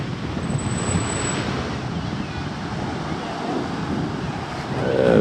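Surf rolls steadily onto a gray-white sand shore at Folly Beach, South Carolina, a continuous broad wash mixed with wind rumble against the microphone, swelling slightly louder near the end with no voices.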